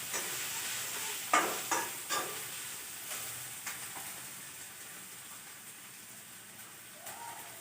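Onions frying in a pan for a chicken curry, a soft steady sizzle with several sharp stirring scrapes and clacks near the start that grow fainter and sparser, no voices.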